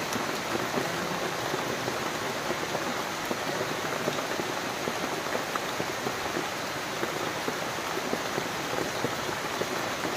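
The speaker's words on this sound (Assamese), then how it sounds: "বৰষুণ আহি গ'ল কাম কৰি থকা সময়তে" Heavy rain patters on banana leaves in a garden, a dense, steady crackle of drops striking broad leaves overhead, close and continuous with no talk.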